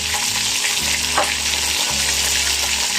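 Green beans and meat sizzle steadily while being sautéed in a pan for an Egyptian tagine. The frying hiss is loud and continuous, and occasional soft stirring scrapes break through it.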